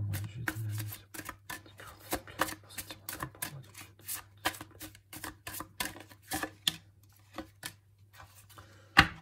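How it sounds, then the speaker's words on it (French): Tarot cards shuffled and drawn for a reading, a fast run of crisp riffling clicks and flicks close by, with a low steady hum beneath and no talk. "Donc on va tirer 2 cartes conseils pour vous au niveau sentimental pour le mois de juillet 2022"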